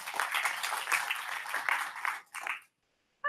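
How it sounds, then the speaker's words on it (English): Conference audience claps for two speakers, a burst of close, fairly loud applause that thins and stops after about two and a half seconds, followed by silence. "So please give a round of applause for Maggie and Mickey."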